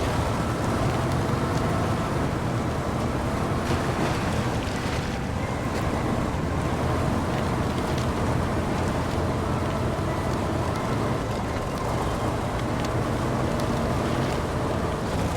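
In the Expeditions video game a vehicle ploughs across water, giving a constant loud rumble and rushing splash without a break from start to finish, with no speech over it.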